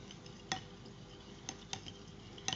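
A spoon stirs aloe vera gel and rose water together in a small bowl, giving faint soft scraping with a few light clicks against the bowl and no talking.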